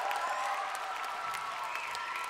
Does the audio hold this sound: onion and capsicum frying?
no